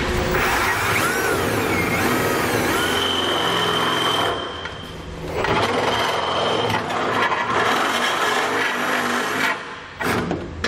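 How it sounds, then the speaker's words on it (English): Steady grinding and rasping of a 1/2-inch drill bit boring holes through a 2018 GMC Sierra truck bed, continuous and close, with a brief pause midway before the drilling resumes. "I'm going to use a 1/2-inch bit to drill those out."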